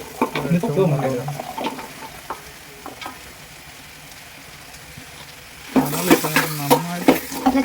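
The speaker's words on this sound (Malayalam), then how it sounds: "ഇതൊന്ന് വഴറ്റിയെടുക്കണം തക്കാളി ഇട്ട് ഒന്ന് വഴറ്റി ഇത് വെളുത്തുള്ളി" Tomatoes and garlic sautéing in a pan for beef curry give a steady close sizzle and stirring throughout, with a voice speaking near the start and again near the end.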